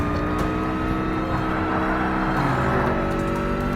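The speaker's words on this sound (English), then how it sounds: "The engine sound reminded me of Motorstorm for PS2 game." A car engine in Forza Motorsport (2005) drones steadily under power, with a rising harmonic whine that shifts pitch midway as the revs change, loud and alone.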